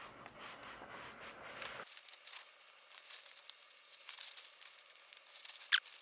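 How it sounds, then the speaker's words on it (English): Scissors cut a printed transfer sheet into strips, giving close crinkly snipping and rustling of the sheet that turns brighter and busier after a quiet start, with a sharp click near the end. "So get your favorite pair of scissors and get to cutting."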